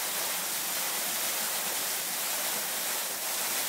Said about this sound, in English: this place has a waterfall. I mean, it's gushing out of the side of the, the cliff.